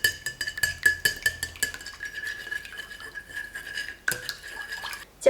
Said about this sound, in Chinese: 大盆中打入3颗鸡蛋， 把鸡蛋充分的搅散